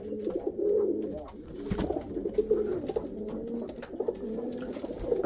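Pigeons in a breeding loft cooing continuously, several birds overlapping in low rolling coos with occasional wing flutters and shuffling, close and fairly loud.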